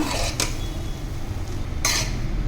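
Boiled rice for egg biryani is turned over in a pot, with soft scraping and two brief metallic knocks of the spoon against the pot, all set against a steady background rumble.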